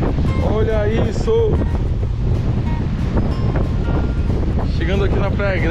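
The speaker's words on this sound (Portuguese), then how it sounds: "Praia Grande, cara, olha como é que tá ventando pra caramba" Heavy wind buffeting a camera microphone with low rumbling gusts on a beach during a storm surge at Praia Grande, Arraial do Cabo, Brazil, while someone talks over it throughout.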